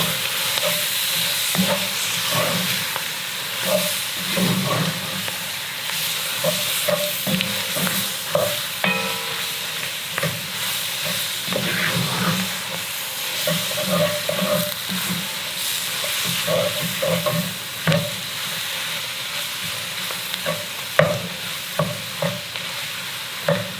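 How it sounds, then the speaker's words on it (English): A roux for gumbo is stirred steadily in a hot pot. A spoon makes repeated close scraping strokes with a soft sizzle underneath, and no one speaks. "you still want to keep stirring because you don't want any of that roux to burn"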